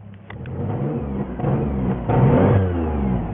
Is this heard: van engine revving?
yes